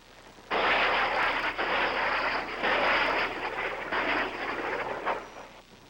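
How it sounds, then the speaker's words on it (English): South Vietnamese helicopter gunships circle overhead during combat near a bridge and fire salvos of rockets, producing a loud, close, rushing roar that surges and dips in several long waves, with no voices present. "Above them, South Vietnamese helicopter gunships circle and fling down their salvo of"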